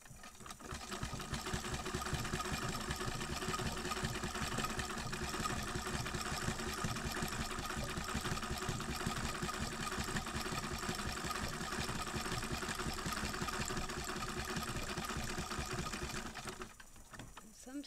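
A Singer sewing machine fitted with a non-cam zigzag attachment sews slippery fabric, running as a steady, close, mechanical whir with no breaks for about fifteen seconds before stopping.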